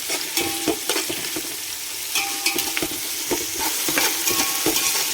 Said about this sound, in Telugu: ఆనియన్స్, పచ్చిమిర్చి, ఇది మంచిగా వేగాలి, బ్రౌనిష్ కలర్ వచ్చేంత వరకు వేగాలి